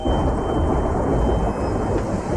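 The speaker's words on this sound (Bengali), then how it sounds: "সারা আকাশ কালো করে শুরু হলো ঝড় আর বৃষ্টি" A loud, dense roar of a thunderstorm: rumbling low noise with rain hissing throughout, constant and close.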